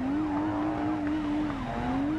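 Tires squeal continuously as a car drifts in the BeamMP driving game, a steady, loud screech with a wavering pitch and engine roar underneath, no voices over it.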